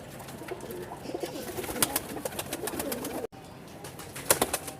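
A silver pigeon coos quietly in a breeding loft, its low murmuring mixed with soft rustling and faint chirps from other birds nearby.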